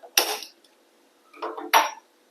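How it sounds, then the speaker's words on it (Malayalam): A metal pan clanks onto a stove in a home kitchen before tempering for coconut chutney, two short, sharp metallic knocks about a second and a half apart, with a quieter scrape between them and nothing else. "ചീഞ്ചട്ടി വെച്ച് കൊടുക്കാം,"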